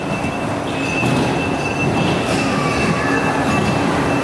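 Steady rumble and rattle of a moving train with a faint thin squeal riding on top, continuous and fairly loud for the whole stretch, with no talk.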